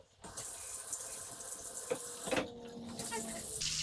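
Tap water runs steadily into a sink while a cheesecloth is wetted under it, a close, continuous splashing stream with a few brief shifts in flow and no speech.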